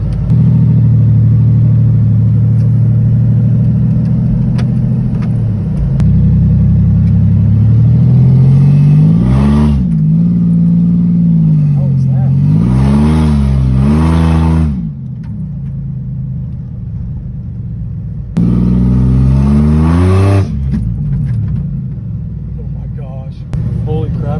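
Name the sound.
six-cylinder car engine accelerating on a drive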